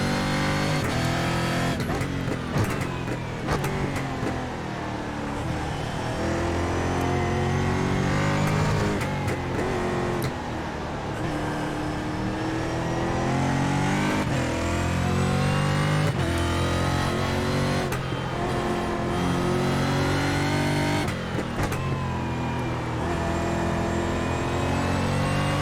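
Stock Car Brasil race car engine lapping Okayama International Circuit in the iRacing sim, a loud continuous roar with rising and falling revs and gear changes throughout, no talk.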